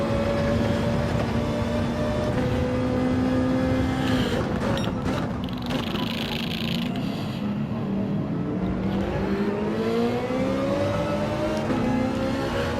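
A race car in Gran Turismo pulls away with a sustained engine drone that dips and then climbs in pitch as it accelerates, loud and continuous with no talk.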